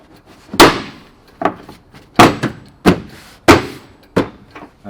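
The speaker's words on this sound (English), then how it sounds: "Give it a bang in, lift it up over your fuel spout." A front bumper kit is banged into place on a Polaris Ranger 570 SP, giving six or seven sharp, loud thuds at irregular intervals, close by and with no talking.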